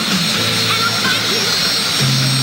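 The small Colomban MC-15 Cri-Cri aircraft's engine whines overhead at an airshow, a continuous loud buzzing drone with shifting pitch, while an announcer talks over it.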